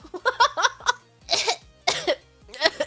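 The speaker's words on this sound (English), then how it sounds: "Coughing, hacking." Several harsh, hacking coughs come in bursts, loud and close, with short pauses between them.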